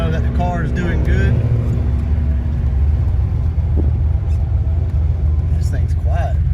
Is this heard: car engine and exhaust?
yes